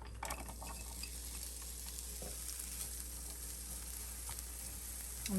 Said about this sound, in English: We add a little bit of olive oil and then add the veggies to cook.